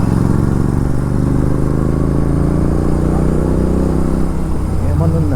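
A Royal Enfield Continental GT650 motorcycle rumbles steadily on a ride, its loud, close engine drone and wind noise continuous throughout with no clear pauses.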